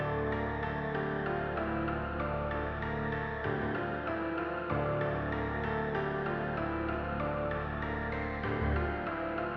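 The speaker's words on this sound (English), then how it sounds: "So the loop sounds like this." A short looping music phrase plays steadily with layered melodic tones and a repeating rhythm, with no voices.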